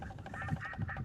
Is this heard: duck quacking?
yes